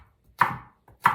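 Two sharp, close knife chops strike a cutting board while slicing sweet pepper into planks, separated by a short pause and a faint tap, with no voices.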